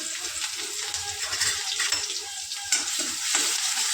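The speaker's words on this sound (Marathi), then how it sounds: "चांगलं परतून घेऊया." A garlic, green chilli and coriander paste with curry leaves sautés in hot oil in a pan, a steady close sizzle broken by soft stirring scrapes, with no voices.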